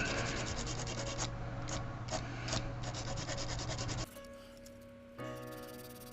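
Sandpaper rubbed around a plastic peg on a transforming robot toy's thigh joint to shrink its diameter, a steady close scraping rub that runs continuously, easing to a lighter, quieter scratch near the end.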